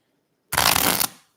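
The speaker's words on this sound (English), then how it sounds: "And it'll get easier as I keep shuffling it." A newly opened oracle card deck being shuffled: one dense burst of riffling card snaps lasting about half a second, close and fairly loud, with no talking over it.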